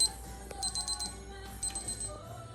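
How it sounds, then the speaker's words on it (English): A ThermoPro cooking thermometer alarm beeping in short repeated bursts, two clusters of rapid high electronic beeps over a low background hum beside an oven where an Iberico pork collar roasts. "Alarm has gone off."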